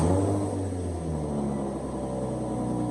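An Infiniti G35 with its muffler deleted, mid pipe on and no exhaust tip, idling with a deep, rumbling, steady exhaust drone close by after startup, alone with no talk.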